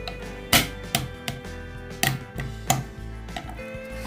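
Garlic cloves are crushed on a hard surface in a series of sharp, irregular knocks and thuds, close and fairly quiet, with short pauses between strikes.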